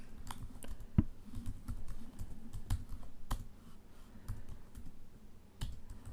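Keys tapped on a computer keyboard while code is entered, an irregular run of close, crisp clicks with occasional louder strikes and brief pauses.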